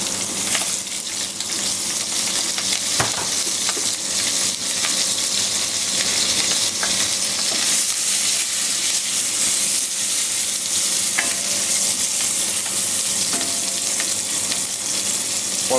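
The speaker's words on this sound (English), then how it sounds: "So we're actually going to fry off our onions slightly." Shallots sizzle in a hot pan while being stirred, a steady, dense crackling hiss with occasional soft scraping taps throughout.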